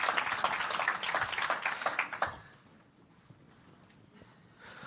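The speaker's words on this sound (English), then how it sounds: "a round of applause for Dr. Bruce Chernoff, please" Applause from a summit audience greeting a speaker at opening remarks, a dense crackle of clapping for about two seconds that quickly dies away into a quiet room with faint shuffling.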